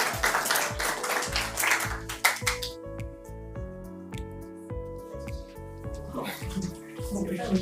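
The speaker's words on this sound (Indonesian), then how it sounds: "tepuk tangan sekali lagi untuk kelompok" A burst of applause from a group in a classroom fills the first few seconds, then fades as soft piano-like notes continue.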